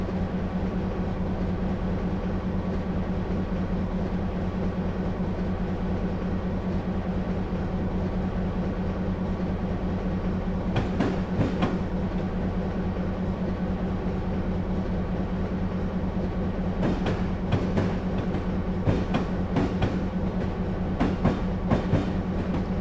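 An EMD SW1500 locomotive in Train Simulator 2015 on the Kalispell to Columbia Falls route in the USA rolls along with a steady low rumble, broken by bursts of clattering wheel clicks near the end. No one speaks.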